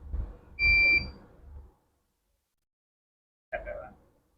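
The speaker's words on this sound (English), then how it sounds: "you will see this alarm prompt to us." The AB SCIEX 5600 LC-MS instrument software gives a single short, steady electronic alarm tone in a quiet lab, with a voice talking just before and after it.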